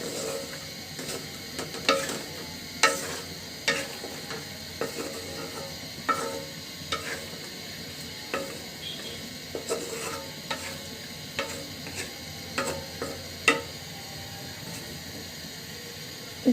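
Vegetables tossed with spices in a pan for a thin fish curry, with repeated scraping stirs over a steady sizzle, close and moderately loud, no talking.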